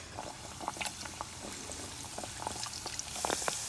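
Beignet dough frying in batches of three in hot oil inside a van, a steady crackling sizzle with scattered sharp pops throughout, close and fairly quiet, with no talking.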